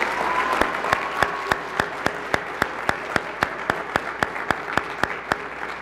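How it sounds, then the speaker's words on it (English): An audience at a school district board meeting applauds steadily, a broad wash of clapping with regular sharp individual claps standing out near the microphone. "Give them a round of applause."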